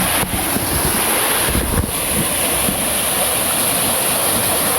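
A strong mountain river rushes near Mt. Liyu in Taiwan after Typhoon Carina, a constant loud roar of water with wind buffeting the microphone.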